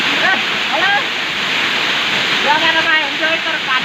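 Chiseni waterfall roars as a steady, loud wash of falling water, with people talking over it throughout.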